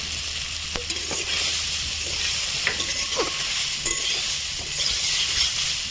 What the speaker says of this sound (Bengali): আমার তেলটা হিট হয়ে গেছে, এখন আমি নারকেল কুচিটা সামান্য পরিমাণ ভেজে নেব